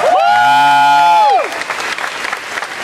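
A theater audience bursts into applause and cheering after a movie screening, loud and dense right at the start, with a bright tonal sound layered over it for the first moments before the clapping thins out.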